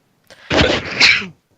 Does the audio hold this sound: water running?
no